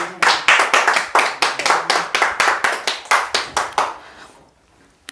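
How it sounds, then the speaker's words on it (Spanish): Rhythmic clapping from a church congregation, about a dozen even, sharp claps in steady tempo that stop abruptly after four seconds. "¿Cuántos le da un aplauso a Dios?"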